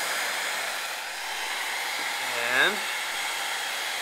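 Heat gun blasting steady hot air onto an engine case cover at about 1100 °F before bearing installation, a continuous close whoosh throughout with a brief swell near the end; one short spoken word.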